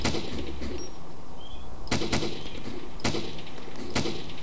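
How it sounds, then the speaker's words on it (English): DayZ gunfire: four sharp single shots ring out at irregular intervals over a steady background hiss, moderately loud with a short echo after each. "Is that you shooting?"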